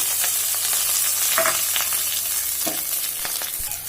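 Small pieces of peeled, chopped garlic fry in hot oil, giving a loud, close sizzle. A few spatula scrapes and clicks break through the hiss, and no one speaks.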